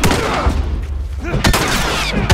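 Gunfire from The Last of Us Remastered video game, a few sharp shots scattered through a busy, loud game mix with other effects and a voice talking over it.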